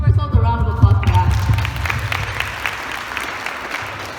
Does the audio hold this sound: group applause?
yes